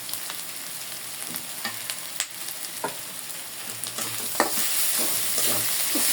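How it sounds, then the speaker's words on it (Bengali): Ginger and garlic frying with onion in a wok-style pan (karahi), giving a steady close sizzle with scattered clicks and scrapes of a stirring spoon throughout, no voices. "আদা রসুনটা একটু ভালো করে পেঁয়াজের সাথে ভাজিয়ে নিচ্ছি"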